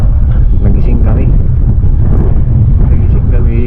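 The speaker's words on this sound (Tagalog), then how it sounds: "Pinapaspas din kasi ng hangin eh." Steady, heavy wind buffeting close by at a cold lakeside campsite, a constant rumbling roar with no pauses.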